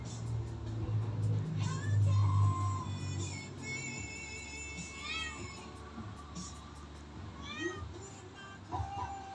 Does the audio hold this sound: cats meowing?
yes